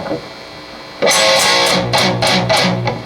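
A distorted electric guitar riff starts after a second of near silence, with repeated sharp, bright strums and chugging notes in an uneven rhythm, loud and close.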